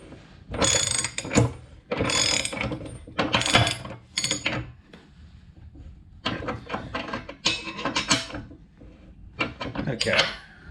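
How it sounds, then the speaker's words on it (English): A bolt on a BXPANDED thumb fitted to a John Deere 270B backhoe is tightened by hand, with close, repeated bursts of ratcheting clicks and metal grinding separated by brief pauses. "Okay, I think I'm going to do the final tightening now by hand."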